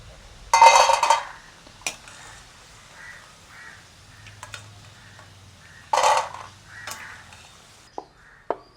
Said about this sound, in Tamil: கொஞ்சம் பொரிய நாங்கள் பிரட்டி விடுவோம்.